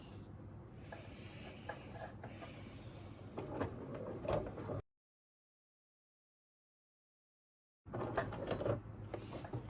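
A domestic sewing machine stitches through the outer and inner layers of fabric for a phone holder, running in a steady close whirr that cuts off into a pause of silence before resuming.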